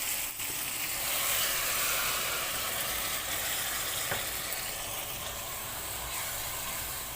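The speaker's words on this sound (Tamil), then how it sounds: "இப்போ புளி கரைச்சல் எடுத்து விட்டுறோம்" Tamarind water poured into a pan of sautéed tomatoes while making a home-style anchovy curry, giving a steady, close sizzling hiss with a brief sharper spurt near the middle.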